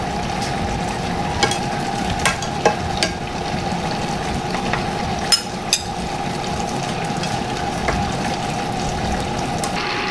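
Bottle gourd with ground pork sautés in a pan, sizzling steadily and continuously with occasional sharp clinks of a utensil stirring against the pan.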